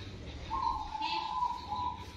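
A zebra dove (perkutut) gives a soft, sustained coo at close range against a quiet background.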